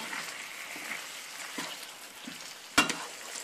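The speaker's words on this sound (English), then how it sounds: "I'm going to stir that all together" Garlic and seasonings are stirred in a frying pan, giving a soft, faint sizzle with light scraping and one sharp clack of the utensil near the end.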